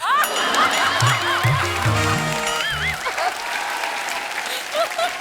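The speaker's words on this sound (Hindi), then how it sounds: "मेरे लिए ताली मत बजाओ बिड़ो, इन लोग के लिए बजाओ" Studio audience at a TV comedy show applauding, a loud, sustained wave of clapping with voices talking and calling out over it, easing off toward the end.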